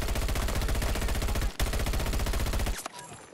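Rapid automatic fire from an MTAR rifle in the Battlefield 2042 video game, a loud, dense burst of shots that cuts out briefly, resumes, then stops abruptly near the end.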